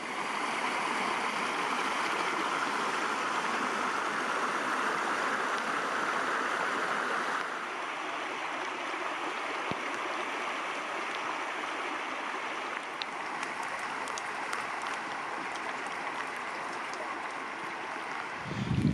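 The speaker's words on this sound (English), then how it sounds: "So for now, we're just kind of following down this little creek here." Little creek flowing in the Superstition Wilderness, a steady close babble and rush of water that softens partway through, with faint footsteps or rustles near the end.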